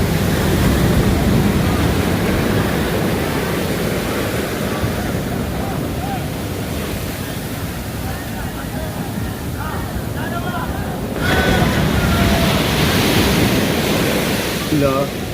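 Ocean surf rolls and breaks close by in a steady, broad wash, with a stronger surge toward the end and wind buffeting the microphone throughout.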